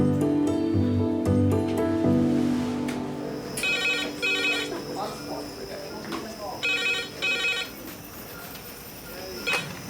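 A red emergency phone in a busy hospital A&E department rings in repeated electronic bursts partway through, loud and close, while staff talk nearby.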